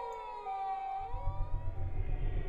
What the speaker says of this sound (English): from even further away, I can hear the siren of a fire truck or maybe an ambulance